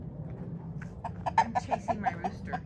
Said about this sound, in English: I'm chasing my rooster.